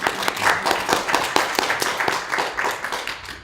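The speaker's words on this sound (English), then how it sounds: "Clap." An audience at a spiritual talk claps together in a steady, rhythmic pattern of sharp hand claps, fairly close and even in loudness, with no speech over it.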